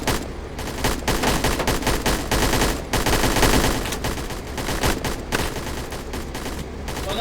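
Sustained rapid gunfire in the military shooter game BRM5 during a training drill, dense overlapping bursts of shots at high volume for the whole stretch with only brief gaps and no speech.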